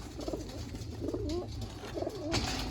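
Pigeons coo softly in three repeated, throaty phrases spaced about a second apart, faint against a low background hum.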